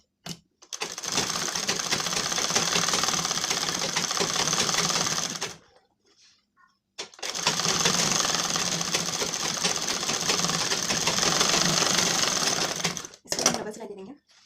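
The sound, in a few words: sewing machine stitching a blouse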